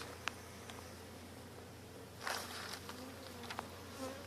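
Honey bees buzz steadily from an open hive during an inspection, a low continuous drone with a few brief, louder fly-bys passing close.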